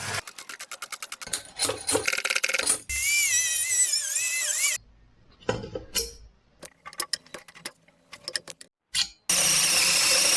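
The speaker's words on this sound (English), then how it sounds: "So that's the absolute last attempt to get the glow plugs out." Tools working the glow plugs out of a Land Rover Discovery engine: loud, close bursts of rapid clicking and rasping metal, long sustained runs of harsh power-tool noise, and scattered sharp taps in between, with no speech.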